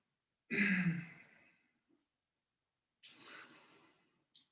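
Two slow, deep exhalations during a yoga session, close and alone in a quiet room, the first long and breathy, the second softer, followed by a brief short breath.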